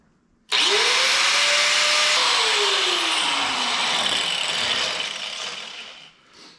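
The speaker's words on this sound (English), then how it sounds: "I think I'm going to use a grinder this time." An angle grinder cuts metal during fuel-system work on a Pontiac GTO. It starts suddenly with a rising spin-up whine, then grinds loudly and continuously before winding down near the end.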